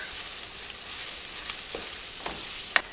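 Flour cooks in a skillet for a hamburger gravy, giving a steady soft sizzle with a few faint scrapes of stirring, quiet and close.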